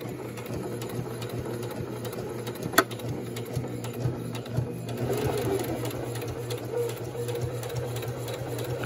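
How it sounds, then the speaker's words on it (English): Singer Classic Heavy Duty sewing machine stitching a back stitch, a steady rapid mechanical whir and needle clatter running continuously at moderate volume, with a sharp click near the middle. "so we're just gonna sew. And then we got to make sure the stitch is strong, so we always got to do a back stitch."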